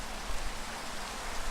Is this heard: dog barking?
no